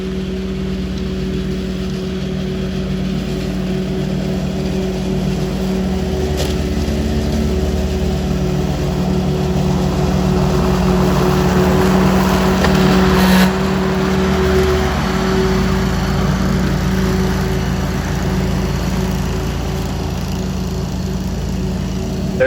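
A riding mower towing a Fradan 31 hp leaf vacuum runs loud and close, a constant droning engine with a whooshing roar that swells in the middle and then settles, with no talk.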